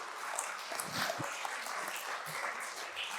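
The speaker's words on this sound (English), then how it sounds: "You guys give yourselves applause" An audience at a business awards ceremony applauds, a soft, even wash of clapping that holds at a moderate, somewhat distant level throughout.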